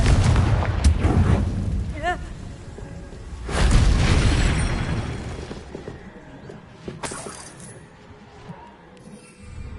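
A Confringo blasting spell from Hogwarts Legacy erupts in loud booming blasts near the start and again around four seconds, with rumbling decay between and a quieter tail, while a voice speaks in the background.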